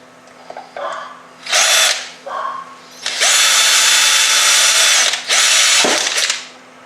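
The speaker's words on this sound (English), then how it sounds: "I'm going to drill 4 holes on the top of my lid." A power drill with a 3mm bit whirs in two short bursts, then runs in a long continuous high-pitched whine before a final brief burst, drilling holes in a bucket lid, loud and close with no talking.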